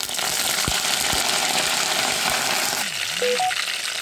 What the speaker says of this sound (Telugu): పోపు చక్కగా ఫ్రై అవుతుంది ఫ్రెండ్స్.